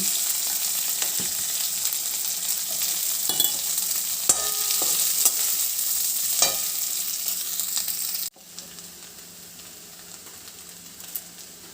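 Potatoes sizzle and fry in a pan for potato podimas while a spoon scrapes and stirs them now and then; the frying continues, a little quieter, toward the end.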